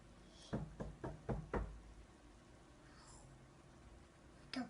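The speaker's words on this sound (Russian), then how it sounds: "О, сильно стучит, мама." Knocking heard indoors: a quick cluster of four or five dull knocks early on, then quiet room tone and one more knock at the very end, all fairly faint.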